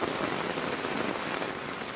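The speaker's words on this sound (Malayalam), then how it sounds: "നല്ല മഴ പെയ്തു." Heavy rain pours down during a rainy trip, a dense, unbroken hiss of drops pelting surfaces close by, steady and loud throughout with no voices.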